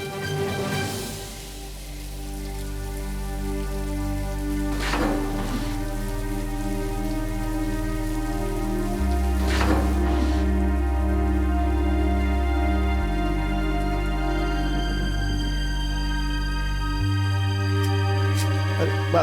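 Steady rain falls on a rainy day, a continuous even patter running the whole stretch beneath sustained background music, with no one talking.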